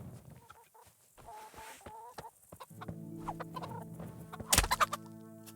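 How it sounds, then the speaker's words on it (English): Chickens cluck and squawk in a medieval village in the video game Kingdom Come: Deliverance, a few fowl calling in short bursts over a steady game ambience, with a sharp louder clatter near the end. "Oh, chickens."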